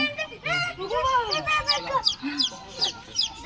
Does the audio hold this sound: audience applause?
no